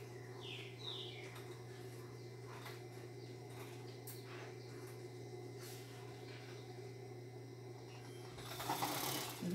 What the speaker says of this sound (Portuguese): Vai colocando a peça dentro do viés. Vai costurando, ó.